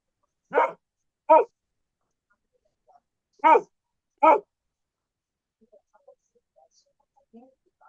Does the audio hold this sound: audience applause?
no